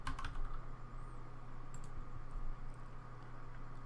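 Fingers type on a computer keyboard in quick bursts of soft clicks against a steady low hum, heard up close with no talk.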